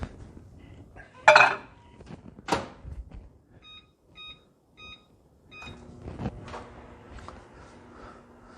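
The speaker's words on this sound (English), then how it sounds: "So just for time's sake, I'm going to put them in a microwave and do it 45 seconds." A kitchen microwave oven is used to melt ingredients for low-carb keto Cheddar Bay biscuits. A door thumps shut, then keypad beeps set 45 seconds before the oven starts with a low, steady hum. Faint clinks sound nearby.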